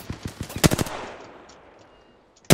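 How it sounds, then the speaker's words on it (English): Rapid bursts of automatic gunfire in Apex Legends, a quick string of sharp shots fading into echoing tail, then one more loud shot at the very end. "Opening fire."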